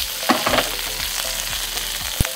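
Bacon frying in a pan: a steady, close sizzle with occasional crackles and pops, plus a brief sharp knock near the end, with no voices.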